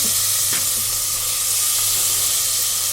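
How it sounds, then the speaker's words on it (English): Three finely chopped medium tomatoes sauté in a pan, a loud steady hiss of sizzling with a couple of faint stirring knocks. "you can add 3 finely chopped medium sized tomatoes to this and you can saute it again"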